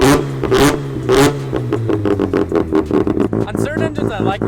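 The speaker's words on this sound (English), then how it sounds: "but it's very, very raspy when I rev it" A rotary-engined car with a Bridgeport-ported engine revs hard and close, its raspy, brapping exhaust climbing and falling in repeated bursts, with someone talking over it.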